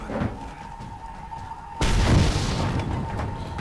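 In the Mad Max video game, a sudden loud explosion bursts in partway through, a deep boom that swells into a rumbling roar and then lingers as it slowly fades.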